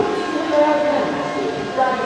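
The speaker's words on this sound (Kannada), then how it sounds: "ಟ್ರೈನ್ ಬರ್ತಾ ಇದೆ ಅಲ್ಲಿ" A train draws into a Bangalore railway station, a steady broad rumble with faint tonal hum beneath a murmur of platform voices and crowd noise.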